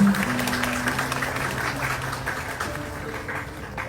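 A studio audience breaks into steady, moderately loud applause that keeps a dense, even texture for about four seconds, with a faint tonal hum running underneath.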